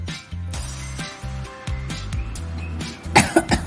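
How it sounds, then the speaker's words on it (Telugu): Someone coughs repeatedly in short harsh bursts after eating spicy paneer majestic sticks, close to the microphone, with a light clink of glass near the end. "దగ్గు వచ్చేస్తుంది. ఘాటు ఫుల్గా ఉంది."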